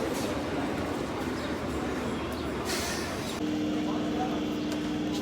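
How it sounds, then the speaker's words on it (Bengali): A metro train rumbles past in a station with a steady low roar, and a sustained hum rises partway through. "আমার পিছন দিয়ে এখন ট্রেন যাচ্ছে"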